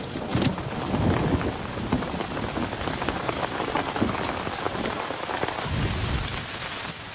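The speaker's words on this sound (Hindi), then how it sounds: "यहाँ पर बारिश हो रही है" Steady heavy rain pours down on surfaces, dense and close, with a low rumble of thunder beneath it and no talk.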